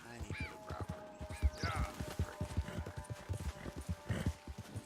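Horse hooves clip-clop at a steady trotting rhythm in a video game, loud and close, with an occasional snort and a voice talking over the hoofbeats.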